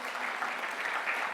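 A room of listeners at an industry briefing claps in a dense, even patter of applause, moderately loud and sustained throughout the short moment.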